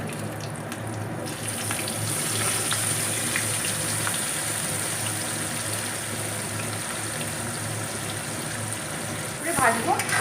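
Green chillies and onions frying in a pan give an even, rushing sizzle that holds steady for several seconds, with a voice speaking over it near the end.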